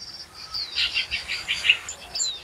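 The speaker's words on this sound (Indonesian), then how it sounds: "Berikutnya ada burung glatik, glatik batu. Untuk harian sudah sangat rajin bunyi." A cinereous tit sings a run of bright, high chirps and short trilled notes, close and clear over a quiet background.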